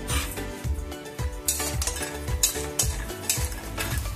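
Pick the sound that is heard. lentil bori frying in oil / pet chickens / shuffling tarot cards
lentil bori frying in oil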